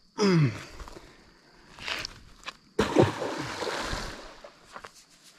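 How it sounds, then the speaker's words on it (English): A fish of about ten pounds is dropped back into the water at a forest fishing spot and lands with a sharp, loud splash close by, followed by quieter sloshing and water movement. "that splash was loud"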